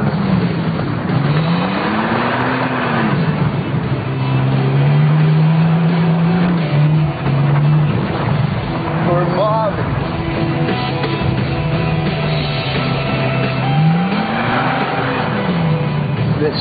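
A stock Toyota Tacoma TRD Pro pickup drives trails in arctic conditions, its engine droning steadily and rising and falling in pitch through revs, loud and close without a break.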